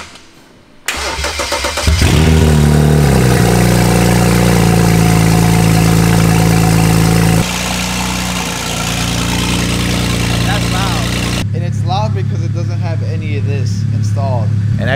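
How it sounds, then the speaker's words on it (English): A BMW 335i engine cranks and fires up loudly, revs briefly, then settles into a steady close idle, with a person talking over the running engine toward the end. "He's gonna start the car."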